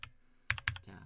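A few quick computer keyboard key presses for a Ctrl+Z undo while working in AutoCAD, crisp close clicks in a short cluster with faint room quiet between them.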